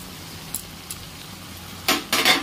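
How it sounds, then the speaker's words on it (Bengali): Ginger-garlic paste hits onions frying in a pan for ghugni, giving two loud bursts of sizzle near the end after quiet light clinks. "এরপরে এতে আদা রসুনের বাটাটা দিয়ে দিচ্ছি।"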